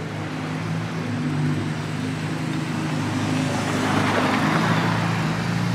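A Ferrari 296 GTS passes on a street in Monaco, its engine note a steady low hum that swells gradually toward the end, with no voices over it.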